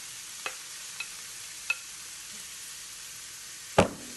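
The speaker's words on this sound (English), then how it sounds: "Now we're going to brown up the beef and break it up." Ground beef browning in a pan while a wooden spoon breaks it apart, a soft constant sizzle under a few light scraping taps, ending in one louder clatter near the close.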